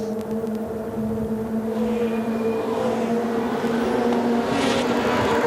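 A BMW touring car in a WTCC race at the Macau street circuit accelerates hard, its engine a loud, steady drone held close throughout the whole stretch without a break.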